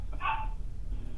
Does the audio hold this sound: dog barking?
yes